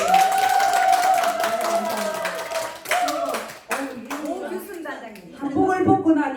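Audience at a variety performance for a senior day-care center claps in bursts, with a talking voice and music over and between the rounds of applause.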